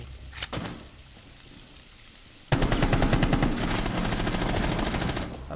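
Rainbow Six Siege gunfire: a few close shots near the start, then after a quiet pause a loud, rapid automatic burst keeps going for about three seconds.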